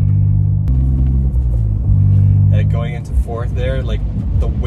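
BMW E46 325xi with a weighted ZHP short shift knob, its engine droning steadily as the car shifts into fourth gear, the low rumble dipping briefly during the change while a person talks over it.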